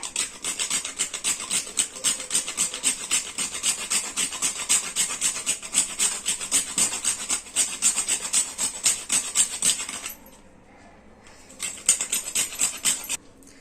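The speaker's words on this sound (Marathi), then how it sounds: "आपण ह्याच्यामध्ये थोडंसं जायफळ खिसून घालूया" Nutmeg is grated by hand for anarse, a fast, steady rasping scrape repeated in close strokes, pausing briefly near the end before resuming.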